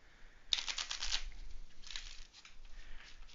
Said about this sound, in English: What I'll do is I'll crack this open and we'll shuffle it a couple times.